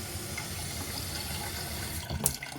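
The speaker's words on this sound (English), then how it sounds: "Running water." Water runs from a sink tap in a small camper setup, a steady broadband rush that continues throughout with a brief louder splash near the end.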